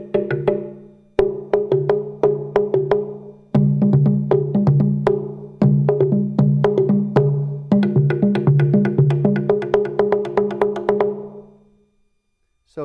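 A wooden log drum is struck on its sides, giving a steady run of rapid, hollow knocks with a resonant low ring, close and loud. The strokes come in dense patterns over several seconds before fading.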